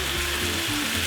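Peas and carrots fry in a pan for pork-fried rice, giving a steady, loud, close broadband sizzle with a faint low hum underneath and no voices.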